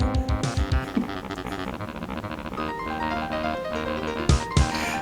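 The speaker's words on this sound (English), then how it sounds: "What you're hearing is the music of the MS-DOS game" Lively electronic MS-DOS game music with bright synth melodies over punchy bass and drum hits, playing alone without any talking.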